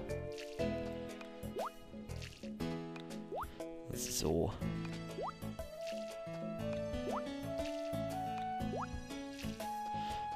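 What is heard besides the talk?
watering crops with watering can in Harvest Moon video game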